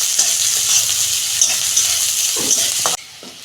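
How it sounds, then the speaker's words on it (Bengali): Chopped onions sizzle in hot oil in a pan while being browned for a pointed gourd mash. The frying hiss is loud, close and steady, with light stirring scrapes, and it cuts off abruptly near the end. "পেঁয়াজটা আমি একটু লাল লাল করে ভেজে নেবো"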